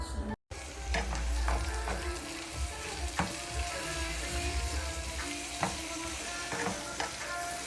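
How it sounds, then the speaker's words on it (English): Mushrooms and sausage sautéing in bacon grease and butter, a loud continuous sizzle with repeated scraping and stirring clacks of a utensil against the pan, briefly cut out near the start. "Mushrooms and sausage. Sauteing up in the bacon grease and butter."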